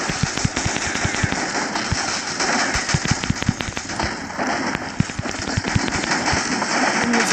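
Rapid bursts of gunfire and sharp grenade explosions crackle continuously in Shadowgun: Dead Zone combat, loud and dense, with a voice speaking briefly among them.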